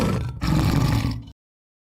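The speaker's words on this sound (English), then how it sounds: "cheetah" A cheetah gives one continuous, harsh roar lasting just over a second, loud and close, and then cuts off abruptly into silence.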